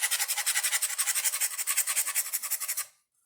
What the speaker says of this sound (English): I'm just going to scrape on that just a little bit to get some of that glue off of there